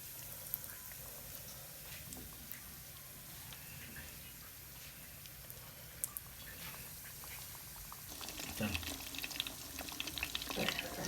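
Chicken nuggets frying in oil in a pan over a low flame give off a soft, steady sizzle with faint crackles, which grows louder and busier toward the end as they are stirred or moved.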